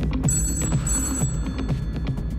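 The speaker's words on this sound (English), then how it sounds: "Back in London, the phone rang." A telephone bell rings in a London office, sounding in repeated short bursts under a low, rumbling background with a faint steady high tone.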